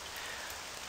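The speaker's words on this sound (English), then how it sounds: "Oh, it's all of a sudden started raining in the game." Rain falling in the video game World War 2 Online, a soft, even hiss of drops that holds steady through a brief moment.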